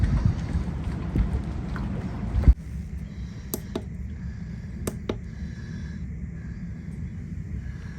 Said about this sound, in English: Oh, it's starting to get fairly windy out there.